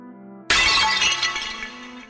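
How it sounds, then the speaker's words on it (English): A chalice smashes on a floor and shatters into shards, one loud sudden crash followed by a bright scatter of breaking pieces that rings and fades over about a second and a half. "smash it on the floor, shattering it into several shards"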